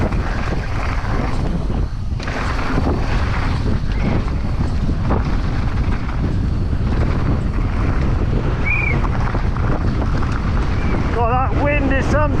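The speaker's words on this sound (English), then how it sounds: "God, that wind is something." Strong wind roars steadily across the microphone on a rugged downhill mountain bike course at a national championship race, a constant loud buffeting gust that fills the whole stretch, with a brief voice near the end.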